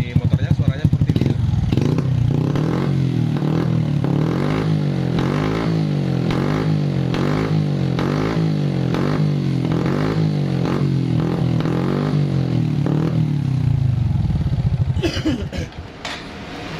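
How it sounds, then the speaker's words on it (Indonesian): A Honda Supra 125 motorcycle engine idles steadily up close with a rhythmic mechanical tapping from the valves throughout, cutting off abruptly near the end. "Kita lihat di motornya suaranya seperti ini."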